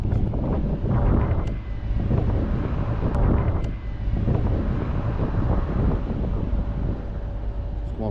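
Strong wind buffeting an outdoor microphone in Scotland, a loud continuous rumbling roar with gusty surges throughout.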